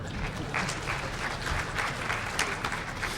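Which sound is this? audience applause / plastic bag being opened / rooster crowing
audience applause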